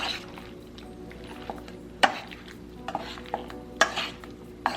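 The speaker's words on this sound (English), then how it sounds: "Add your cornstarch. Give that a mix." Raw beef being mixed with cornstarch for kung pao beef gives a wet, squishy stirring sound, with soft irregular sloshes and a few sharper clicks of the utensil against the bowl, close and alone.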